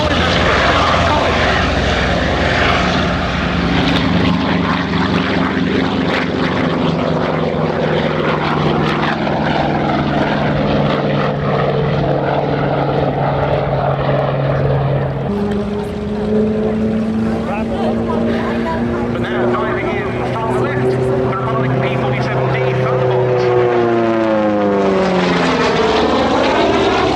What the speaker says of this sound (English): there goes the B-17, its escort flight of the Republic P-47D Thunderbolt, following it on the runway